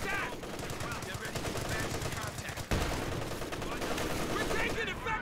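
Dense gunfire in a Company of Heroes 2 battle, rapid machine-gun bursts and rifle shots crackling continuously, with a sharp close blast midway, mixed with soldiers' voices.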